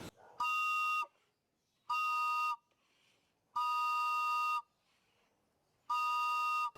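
A person whistles four long, steady, high-pitched tones to call pigeons to feed, each about a second long, separated by short pauses, loud and close.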